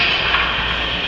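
A model train runs along its track at the York 2024 model railway show, giving a steady, even whirring rumble that fills the whole moment without pause, with no voices.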